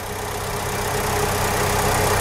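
A used car's engine idles steadily, a loud, even low drone with a constant hum and no revving, close by and alone.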